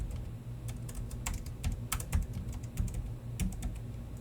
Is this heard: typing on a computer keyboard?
yes